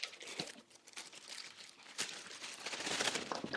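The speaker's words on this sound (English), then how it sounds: "Let's remove the plastic first." Faint crinkling and rustling of plastic wrap being pulled off an electric brush cleaner, with scattered crackles and soft tearing sounds, quiet and close.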